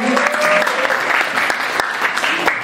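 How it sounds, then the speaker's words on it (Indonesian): Steady applause from a school audience at a talk show held at a high school in Denpasar, dense clapping filling the whole moment with no pause. "Tepuk tangan untuk SMA di Jember Pasar."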